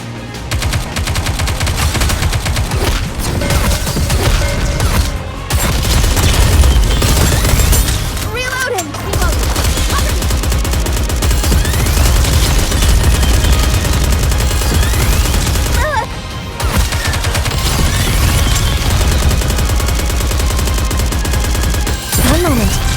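Dense, continuous gunfire from the mobile shooter game Goddess of Victory: Nikke, with rapid bursts, booms and layered machine-gun fire running steadily throughout, and character voice lines occasionally heard over the combat.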